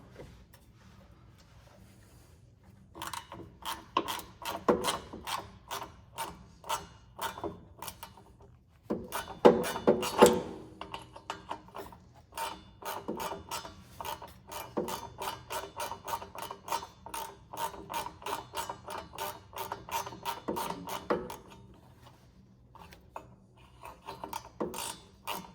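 A 10 mm nut being worked off an engine access plate on an Isuzu NPR truck, heard as a long run of close, sharp ratchet clicks in quick bursts with brief pauses, fairly loud and with no talking.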